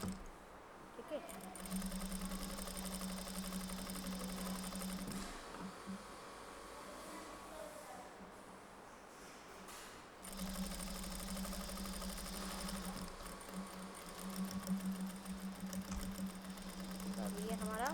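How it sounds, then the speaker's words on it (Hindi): Sewing machine stitches a 1/4 inch seam on a bodice in two steady running bursts of mechanical whirring, pausing briefly between them, with someone talking over it. "उसको ऊपर में अभी हमें 1/4 में सिलाई करनी है"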